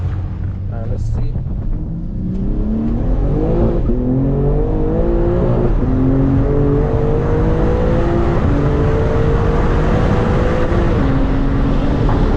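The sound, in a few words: 2021 BMW M4 Competition engine accelerating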